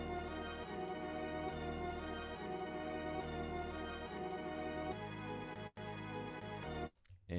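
A music sample layered at two octaves, pitched up one octave and down another in FL Studio, plays as a steady dense tone with sustained harmonics, broken by two brief dropouts near the end.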